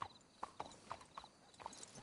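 Hooves in Red Dead Redemption 2 strike a handful of spaced, close clops, with a faint whinny-like call mixed in over quiet background.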